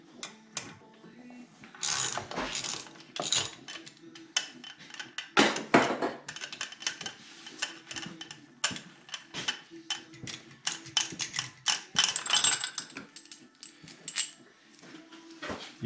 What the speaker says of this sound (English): you loose your 10mm bolt.